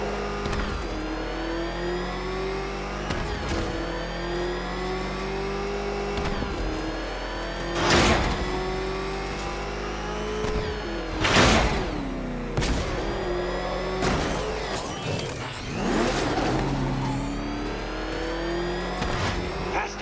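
A Batmobile engine in Batman Arkham Knight revs and whines through shifting pitches, with several sharp loud bursts and whooshes punctuating a steady mid-range motor drone over a low hum.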